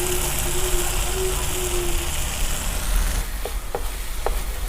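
Vegetables for pasta sizzle steadily in a hot pan, a soft continuous frying hiss with a few brief clinks of stirring near the end.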